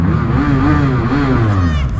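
A BMW F800 R motorcycle revs loudly through its exhaust, the engine note rising and wavering in a close, continuous burst with a voice briefly audible alongside.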